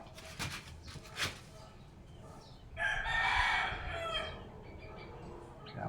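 Chickens on a small Filipino poultry farm, with a rooster crowing loudly for a couple of seconds midway, preceded by a few short sharp calls, with no talking.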